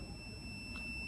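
An MAM870 compressor controller gives a thin, steady electronic alarm tone that holds without a break through the whole short stretch, over a low background hum.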